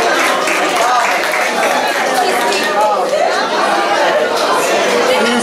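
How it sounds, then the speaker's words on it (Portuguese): Crowd at an orange fair sweets-baking contest applauds as a third-place winner is named, a loud continuous wash of clapping mixed with lively chatter and some laughter. "A salva de palmas, faz favor."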